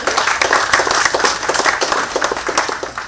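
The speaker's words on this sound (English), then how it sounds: "A round of applause for him." Audience clapping at a pub launch event at the Naparima Bowl in San Fernando, Trinidad, with a moderate, uneven patter of hands that swells and dips over a few seconds.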